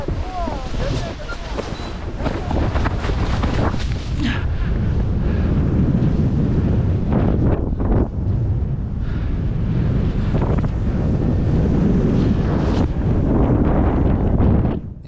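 Strong wind roars continuously across the microphone during a paragliding flight, a loud, steady buffeting rush with gusty swells throughout.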